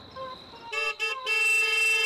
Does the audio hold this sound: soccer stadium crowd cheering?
no